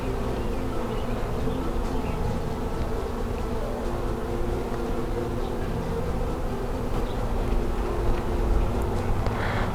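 Honeybees hum in a dense, continuous, close-up drone while a beehive is opened and inspected, with no talking over the steady buzzing.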